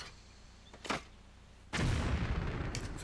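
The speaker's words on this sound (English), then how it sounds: "There's been an explosion over by the water." A single loud explosion blows up skulls in a Tomb Raider level editor game, arriving as a sudden heavy blast that rumbles on after a short faint thump, with no talk.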